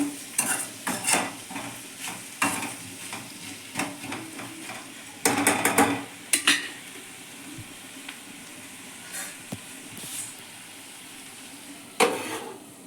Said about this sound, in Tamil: கருவாடை போட்டு ஒரு மூடி போட்டு நல்லா மூடி வச்சு வேகட்டும்